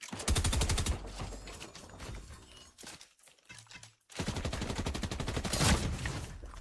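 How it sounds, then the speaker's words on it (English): Video game gunfire as three opponents close in during a squad battle, dense rapid volleys of shots crackling in bursts, pausing briefly in the middle before erupting again loud and close. "There's 3 people surrounding me and they're all shooting"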